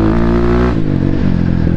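Loud, close engine note from a BSE Z7 four-stroke motorcycle, a steady drone that shifts pitch partway through as the revs change, with no talking.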